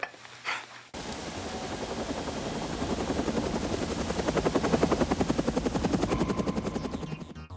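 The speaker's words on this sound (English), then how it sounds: "you forget about the helicopter coming down and shooting them" A full-scale helicopter on a movie set, its rotor chop rising into a loud, steady, rhythmic thudding with a constant turbine roar, close and alone after a brief lead-in.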